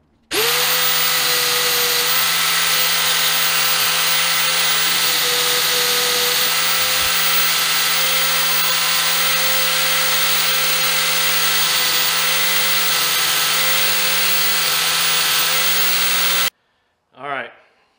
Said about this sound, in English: grinding this edge off, same way on this one, kind of smooth that down.